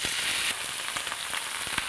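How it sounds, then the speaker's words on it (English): Boiled corn kernels, stripped from the cob, char in a hot pan with a steady close sizzle sprinkled with sharp crackles and pops. "What we're doing now is charring the corn that we boiled."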